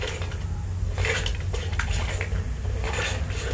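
Water from a toilet flush rushes through a drain line, surging and gurgling in uneven splashy pulses close by, with no talk.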